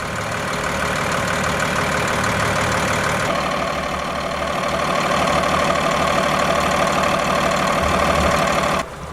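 A 2012 Kenworth T370 truck with a 300-horsepower Paccar PX8 diesel idles steadily up close, a continuous low rumble with a slight rise in roughness midway, then cutting off abruptly at the end.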